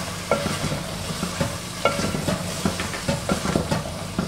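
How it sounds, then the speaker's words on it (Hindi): Biryani masala with spices and plums fries in a pan while being stirred, giving a steady sizzle broken by frequent rhythmic scraping strokes, close and moderately loud. "और इसको थोड़ी देर और भूनेंगे।"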